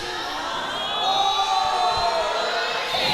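Wrestling crowd at a pro wrestling show cheering and shouting loudly throughout, with a dense wash of voices that swells slightly partway through.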